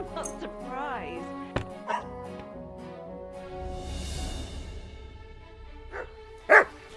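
In the medieval game Kingdom Come, a dog gives several short yips and barks near the start and a louder bark toward the end, with speech and game ambience around them.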